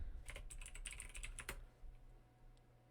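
Quiet, close computer keyboard typing as a folder name is entered: a quick run of light key clicks for about a second and a half, then near silence.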